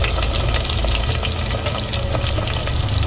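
Curry leaves and onion hit hot oil for a prawn dish, giving a steady, close, loud sizzle and crackle that runs unbroken the whole time with no voices.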